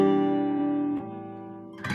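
A strummed acoustic guitar chord rings out and sustains, then a brief shift to a second chord made with a pivot finger held in place near the end, played solo and close.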